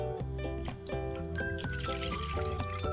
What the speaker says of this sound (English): And now, 3 cups of water.